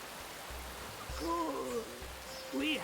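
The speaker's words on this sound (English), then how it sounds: "The rainy season has set in." Steady rain in the strategy game The Settlers: Rise of an Empire during the rainy season, a soft continuous hiss of falling water heard alone at low level under faint game music.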